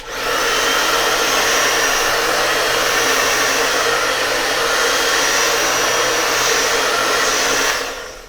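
A hair dryer blows at full power, a loud, steady whooshing roar that holds constant for several seconds before switching off.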